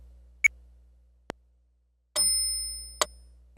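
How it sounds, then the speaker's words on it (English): A Roland Verselab MV-1 metronome set to type 4 ticks sparsely at 60 BPM, each click short and bright, with a longer tonal beep midway, all alone in a quiet room. "The metronome type, you have different types, of course. And let's hear type 4."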